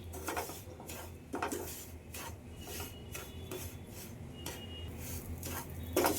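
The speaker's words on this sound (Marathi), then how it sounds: "त्या रव्याला सतत पॅन मध्ये आपल्याला हा ढवळत राहायचा आहे।" Semolina (rava) roasting in a pan while being stirred, repeated rasping scrapes of a spoon across the pan in an irregular rhythm, close and moderately loud, with no talking.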